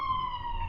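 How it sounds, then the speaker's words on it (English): A steady, loud siren wails briefly during a Wargame: Red Dragon multiplayer match. "apologies for the siren there"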